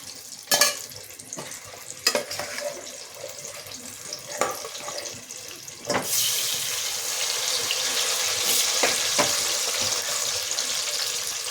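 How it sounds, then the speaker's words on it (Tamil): Chicken kebab pieces coated in masala are dropped into a pan, with several sharp clatters and stir scrapes, then a loud, continuous close sizzle as they fry. "இந்த மசாலையோட நம்ம இதை போட்டு வறுத்துக்கலாம்."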